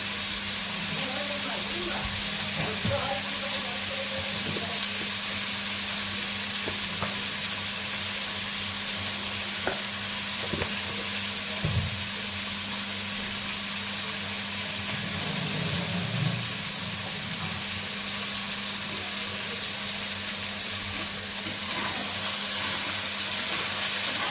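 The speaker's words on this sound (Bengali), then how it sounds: "এই আটা সিদ্ধ করে নিচ্ছি" Atta flour simmers in a pot of salted water for homemade potato patties, giving a steady bubbling hiss with a low hum and occasional soft knocks throughout.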